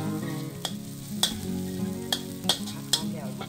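Fish stir-fried with chili and garlic in a pan sizzles steadily while a spatula scrapes and clacks against the pan in sharp, irregular strikes, close up and fairly loud.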